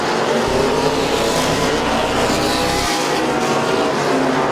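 Race cars at Midvale Speedway circle the track, a loud, continuous engine roar throughout, with the tone shifting near three seconds as the cars pass.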